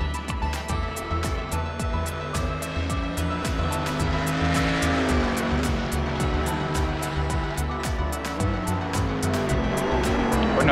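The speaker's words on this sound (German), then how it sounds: "Jesse Cohn aktuell ADAC GT Master Starter im BMW M6 GT3 vom Team Schubert" A BMW M6 GT3 race car of Team Schubert laps Oulton Park circuit, its loud engine note rising and falling steadily through gear changes for the whole stretch.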